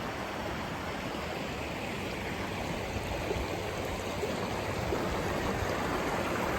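Water rushes close by near the sea, a loud, unbroken roar that grows slightly stronger toward the end, with no voices.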